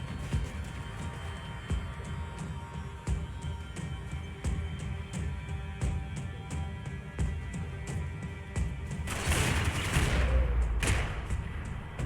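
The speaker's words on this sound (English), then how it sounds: "Gunfire over Hoboken." Gunfire from the Max Payne 3 video game, a steady crackle of shots over a busy game soundscape, building to a louder, dense burst of fire near the end.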